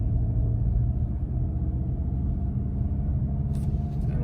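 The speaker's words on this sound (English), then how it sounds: "we will do a roll-on throttle from 20 now in the GLI." A Volkswagen GLI Autobahn driven at low speed before a roll-on throttle from 20, heard from inside as a steady low engine and road rumble, loud and continuous, with no talking.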